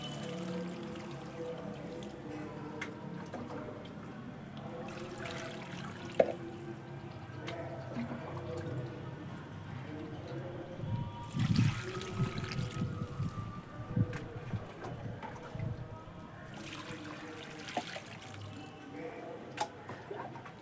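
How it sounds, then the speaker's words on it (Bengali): Water is poured to soak soil mixed with cow dung for sowing onion seeds, giving soft, quiet trickling and dripping with occasional splashes, intermittent over a low background. "এবারে এটাকে আমি জল দিয়ে ভালো করে ভিজিয়ে নেবো"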